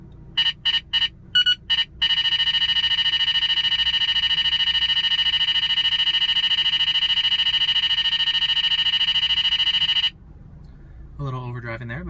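A Radenso radar detector at maximum volume gives several quick beeps, then a long, loud, steady piercing Ka-band alert tone that stops abruptly, followed by a brief voice.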